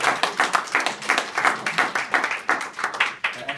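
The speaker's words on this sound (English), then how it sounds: "Can we give Brother Jose another round of applause?" An audience at a Saviours' Day 2015 presentation applauds with close, lively clapping that stays brisk and continuous throughout.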